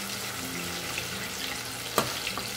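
Cassava (aipim) frying in hot oil in a pan in a home kitchen: a dense, steady crackling sizzle, close and continuous, with one sharper pop partway through.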